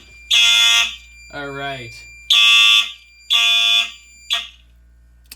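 A home fire alarm system under test sounds after its pull station is triggered, giving loud piercing horn blasts in a steady on-off pattern. A voice speaks briefly between two of the blasts.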